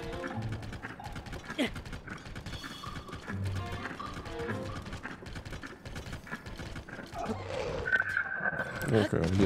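A horse in The Legend of Zelda: Tears of the Kingdom makes clip-clopping hoof sounds mixed with mechanical clicking game effects, under continuous talking from a player.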